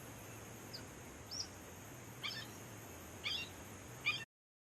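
A pair of red-shouldered hawks calls in late spring woodland near Wareham, Massachusetts: four short, high, distant cries spaced about a second apart over a quiet hiss of background.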